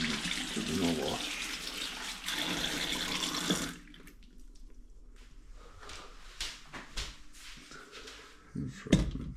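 Tap water runs loud and steady into a kitchen sink as potatoes are washed, then stops after about four seconds, leaving quieter handling noises and a few light knocks.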